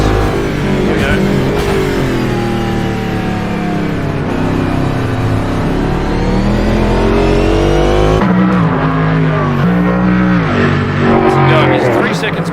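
Race cars compete in the Jewellers Cup at Oulton Park in the UK, their loud engines droning and revving continuously with rising and falling pitch, while a commentator speaks over them throughout.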